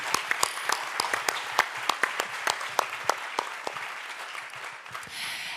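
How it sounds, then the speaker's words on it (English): An audience claps warmly at a corporate tech talk event, a dense burst of applause that gradually thins out and tapers off near the end. "Give him a warm round of applause."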